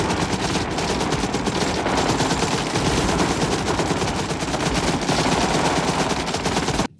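Sustained machine-gun fire from the 1987 film Full Metal Jacket rattles in a dense, continuous burst of rapid shots, loud and close, lasting about seven seconds before cutting off abruptly.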